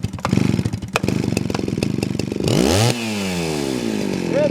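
A small engine whose switch is broken is started on the choke, running in a rough, sputtering burst before settling into a steady, loud idle close by.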